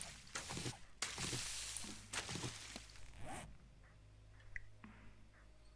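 Cotton being harvested in the 7 Days to Die video game, heard as a few quick, close rustling, zipper-like bursts over about three seconds, followed by quiet faint ticks.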